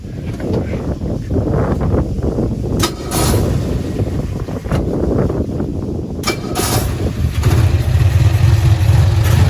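A 1965 Cushman Truckster's small engine chugs close by with a rough, uneven putter, broken by a few sharp bangs and bursts of wind buffeting on the microphone, building to a louder steady drone near the end.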